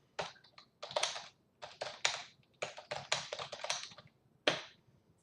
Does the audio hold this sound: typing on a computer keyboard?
yes